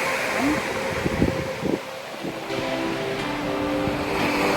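Strong open-sea Pacific Ocean waves wash steadily against a coastline, a broad continuous roar mixed with wind buffeting the microphone.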